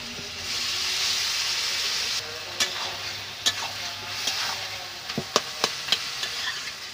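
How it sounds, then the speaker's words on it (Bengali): Boiled banana flower goes into a pan of cooked-down tomato masala with a little water, bringing a broad hiss of sizzling followed by sharp spatula taps and scrapes as it is stirred, close and unaccompanied by talk. "এবারে সিদ্ধ করা মোচাগুলো দিয়ে দিব।"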